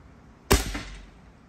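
A single sharp shot from a Red Dot Nitro X 1000 air gun fired at a wooden target, a loud crack with a brief thud and short decay, otherwise quiet around it.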